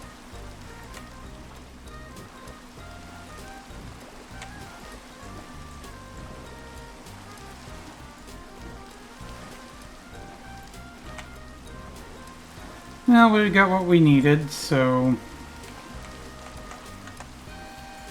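Steady Minecraft rain falls as a soft, even patter throughout, and someone speaks briefly over it near the end.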